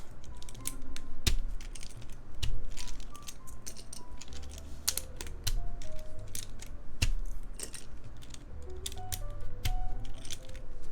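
Keycaps being pried off an HHKB Professional Hybrid keyboard with a regular key puller, giving repeated close plastic clicks and snaps at an uneven pace over a steady background.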